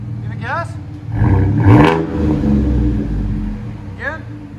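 Chevy Silverado pickup with a 4.3L V6 and straight-through Kooks exhaust, revving up in a loud surge around the middle and holding a rumbling idle, with voices talking over the engine.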